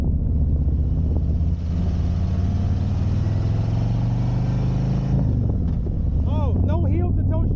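A 2021 Harley-Davidson Road Glide Limited pulls onto the highway, its engine a loud, close low rumble under heavy wind buffeting that climbs as it accelerates, and someone talks over it.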